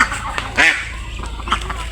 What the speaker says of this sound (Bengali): এই যে আগে মুরগি আইছে